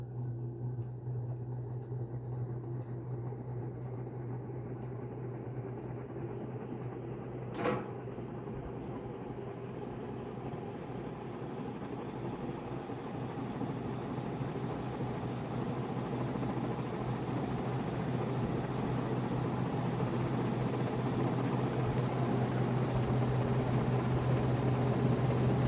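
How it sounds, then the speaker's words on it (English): Dayton 60-inch industrial ceiling fan (model 4C721) running at high speed, with a steady low hum and a rising broadband whoosh, the canopy adding a buzzy vibration; one brief click partway through, no talking. "I think that noise is the canopy vibrating,"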